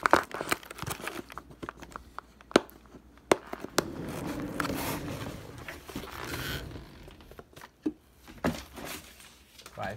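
Plastic packaging of an 8-in-1 children's game being torn and pulled open up close: irregular crinkling, ripping and sharp snaps, loud in bursts, with quieter rustling between.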